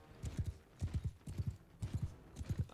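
Horse hooves clop in a steady galloping rhythm in Mount & Blade II: Bannerlord, repeating in quick groups of three. They sound faint and even throughout, with no voices over them.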